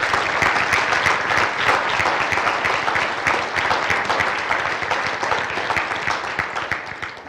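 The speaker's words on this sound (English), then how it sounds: "Ladies and gentlemen, please join me in applauding the next generation and advanced manufacturing professionals." Sustained audience applause for students at a National Signing Day ceremony at South Central College's North Mankato campus, dense and steady clapping from a sizeable crowd that tapers slightly toward the end.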